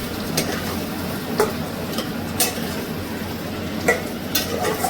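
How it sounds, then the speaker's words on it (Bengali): Spice paste with fried potatoes is stirred in a pan with a little water added, giving a soft continuous sizzle broken by a few sharp scrapes and clinks of a spoon against the pan. "হালকা করে করে একটু জল দেবো আর হালকাভাবে কষবো"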